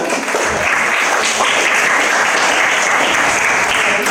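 Classroom applause during a science lesson on the dangers of smoking, a loud, dense, steady burst of students clapping that holds at an even level throughout.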